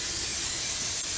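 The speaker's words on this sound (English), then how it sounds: "So we're gonna spray our pan" Cooking spray hisses onto an old cake pan in a short, close, steady burst of airy spray, with no talk.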